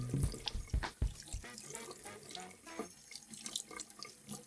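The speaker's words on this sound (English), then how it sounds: "Really giving it a nice good scrub and letting that water just wash off the soap." Tap water running over a makeup brush to rinse out soap, splashing and dripping unevenly at a sink, with sharper splashes early on and quieter trickling afterward.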